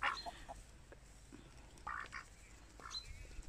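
Incubator-hatched chickens give a few faint scattered clucks and calls in a quiet outdoor countryside setting in spring, with ducks nearby, spaced irregularly over a few seconds.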